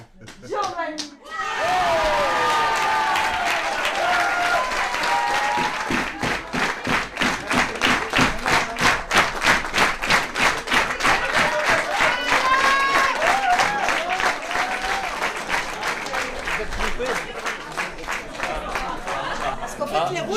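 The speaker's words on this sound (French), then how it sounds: "Tonnerre d'applaudissements pour Giovanni." Audience at a French poetry slam breaking into loud applause, sustained clapping that swells into rhythmic unison claps, mixed with cheers, whoops and crowd chatter, with voices heard over it.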